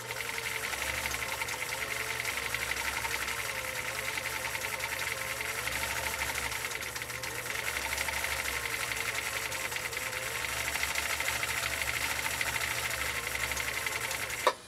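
A Swedish sewing machine runs at low speed with its foot controller barely pressed, making a steady, faint, even mechanical whir and rapid needle chatter that continues unbroken before a brief knock at the end.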